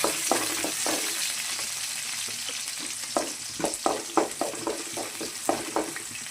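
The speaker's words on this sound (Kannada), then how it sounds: "ಈರುಳ್ಳಿನ ಸ್ವಲ್ಪ ಚೆನ್ನಾಗಿ ಫ್ರೈ ಮಾಡಿಕೊಂಡು" Onions with curry leaves frying in a pan for a traditional fish curry, a steady close sizzle broken by a quick run of rhythmic spatula scrapes and stirs in the second half.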